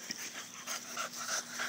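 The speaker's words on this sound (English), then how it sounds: "And this one's just a puppy." A puppy pants briefly and close by with thin, high whimpers on top, quiet and short.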